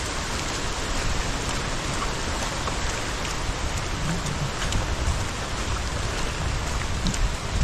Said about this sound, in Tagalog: Ito nakakatakot, may kasama ng ulan